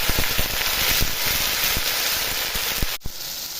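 Dried red chillies, bay leaf, cumin, ginger-cumin paste and tomato sizzle steadily in hot oil, a dense continuous crackle with scattered sharp pops, close and fairly loud with no voices.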